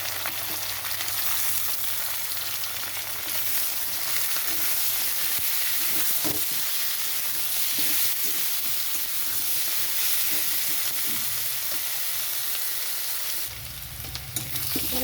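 Onions frying in hot oil in a pan for a fish curry, a loud, dense and continuous sizzle with scraping stir noises throughout and a brief shift in texture near the end.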